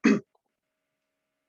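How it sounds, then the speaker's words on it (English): A single short, gruff throat clearing from a man, close to the microphone, followed by silence. "sorry, clear my throat"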